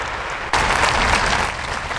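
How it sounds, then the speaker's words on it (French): A large outdoor crowd along the Promenade des Anglais in Nice applauds at a memorial gathering, a dense roar of clapping that swells in abruptly after half a second and holds steady, loud and enveloping. "c'est une minute d'applaudissements qui résonne et court sur les 2 kilomètres de la promenade des"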